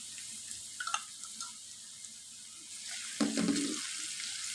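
Ginger garlic paste sizzles with sautéed onions in a pan, a quiet, steady frying hiss with a few soft clinks and a brief louder burst of sizzling near the end.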